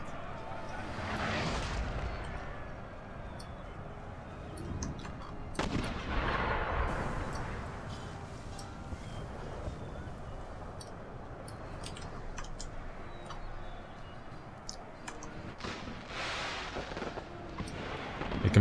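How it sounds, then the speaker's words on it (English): Rockets rain down on a Napoleonic battlefield in Napoleon: Total War, bringing repeated rushing whooshes and booming impacts amid distant gunfire, with a voice talking at times. "Just listen to the sound of those rockets coming down."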